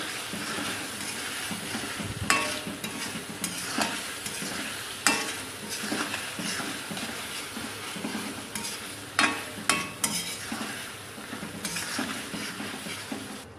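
Crushed red chillies being stirred into tomatoes sautéing in a pot for a chicken handi, with a steady sizzle and repeated scraping and clinking of a spoon against the pan, close and alone.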